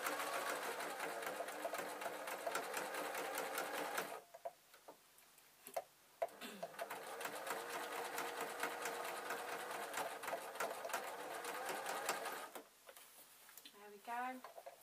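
A sewing machine stitches a fabric storage box in rapid, steady runs of mechanical ticking, pausing briefly between bursts, with a voice talking during the pauses.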